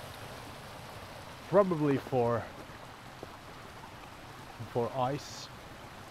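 Water flows through an old stone dam wall in the Mørjeheia woods of southern Norway, giving a steady, even rushing hiss beneath a few short bursts of nearby speech.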